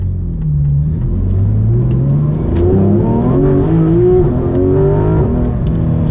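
A 2016 Porsche GT3 RS accelerates hard with limited traction. The engine note climbs through rising revs and gear changes, loud and continuous from inside the car, with no talking.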